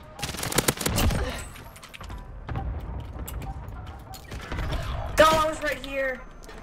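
Swiss K31 sniper rifle fire in Warzone: a cluster of sharp, close shots comes early, followed by scattered mechanical clicks and rattles, and a voice briefly speaks near the end.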